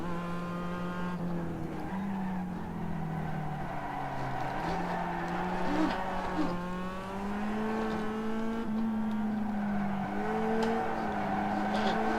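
Simulated Mazda MX5 race car at Okayama in iRacing, its engine droning steadily at high revs with pitch rising and dipping through gear changes and corners, tires squealing intermittently, no voices.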